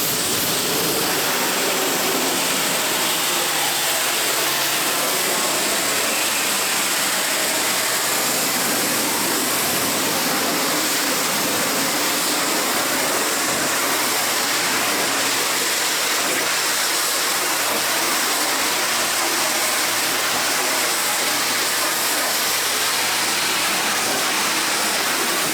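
A pressure washer sprays water across the siding of a salvaged 1980s mobile home, producing a loud, steady broadband hiss that runs continuously without pause.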